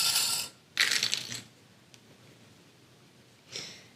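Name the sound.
sewing clips clipped onto fabric edges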